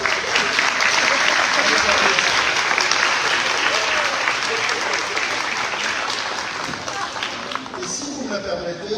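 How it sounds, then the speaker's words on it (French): An audience at a 2025 graduation celebration breaks into sustained, dense applause that fills the hall, steady and loud before tapering near the end, with some voices mixed in. "Et on les applaudit déjà."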